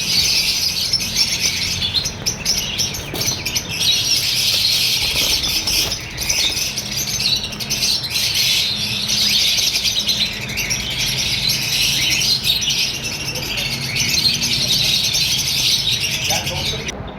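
A breeder pair of red pied diamond doves in a Pakistani bird shop blends into dense, continuous chirping and squawking from many caged birds, loud and close throughout.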